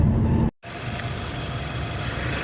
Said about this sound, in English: Let's listen to the engine and all that.